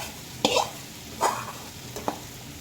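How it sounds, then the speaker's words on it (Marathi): Poha mixed with turmeric and salt goes into hot tempering in a pan and is stirred. Three separate scraping strokes cut through a quiet, steady sizzle, close by and with no talk. "तर आपण हळद, मीठ टाकलेले पोहे फोडणीमध्ये टाकूयात"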